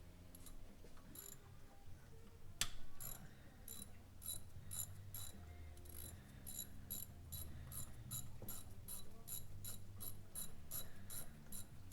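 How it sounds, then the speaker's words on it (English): A hand ratchet loosens thermostat housing bolts on a Suzuki Reno / Daewoo Lanos, giving a steady run of close, crisp pawl clicks in rapid repeated bursts with no talk. "I have room to swing the ratchet around and so forth."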